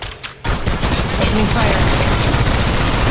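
Dense, loud automatic gunfire rattles continuously in the mobile shooter Apex Legends Mobile, filling the clip after a brief quieter start, with a player cursing over it.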